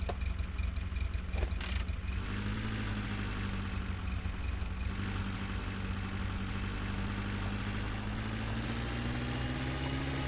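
Loud, continuous engine rumble of a car in The Long Drive, played with a Logitech G27 wheel, holding a steady idle-like drone for the whole stretch with no voices.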